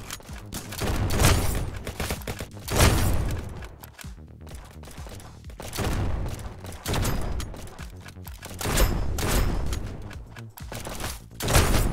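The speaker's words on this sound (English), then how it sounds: "Stupid burst. Burst assault rifle." Burst-fire assault rifle gunfire in a video game comes in repeated loud clusters of rapid shots, separated by short pauses.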